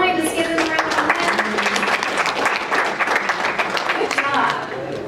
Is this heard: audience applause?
yes